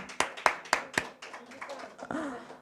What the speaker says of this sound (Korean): 막 박수 쳐 박수 막